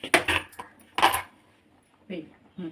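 A metal kadai-style pan set down on a stove for Andhra-style gongura chutney gives two loud, close clanks with metallic ringing, then a couple of softer knocks and scrapes a second later.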